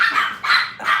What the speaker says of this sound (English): I cannot do a video with you barking